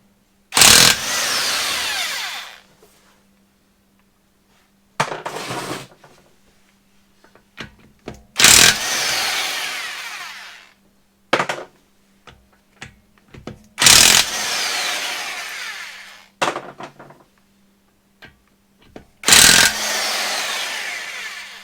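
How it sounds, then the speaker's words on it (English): Impact driver with a 13/16 inch socket loosening wheel bolts on a 2016 Nissan Altima: five loud, close bursts of rapid hammering lasting one to two seconds each, separated by quiet pauses and faint clicks. "This is a 13/16 inch socket on a impact drive."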